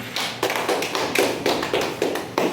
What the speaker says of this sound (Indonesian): Beri aplaus kepada temannya.